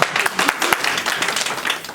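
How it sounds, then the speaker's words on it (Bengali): Audience applause at a Victory Day celebration gathering in New York, a dense, steady patter of many hands clapping together for about two seconds, fairly loud and continuous without talk. "করতালি দিতে হবে।"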